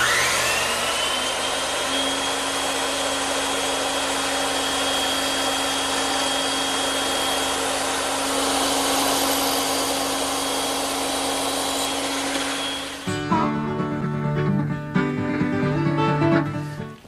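Loud, continuous bandsaw roar with a steady motor hum while trimming wooden tenons from 2x4 stock, holding evenly for about thirteen seconds, then changing suddenly to a choppier, fluctuating cutting sound near the end.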